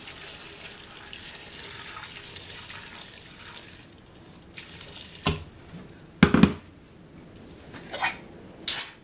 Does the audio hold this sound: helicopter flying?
no